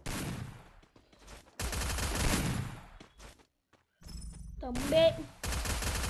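Gunfire in the Free Fire video game, in short bursts and single shots between stretches of talk. A voice speaks over parts of it, and a tonal game effect chirps near the end.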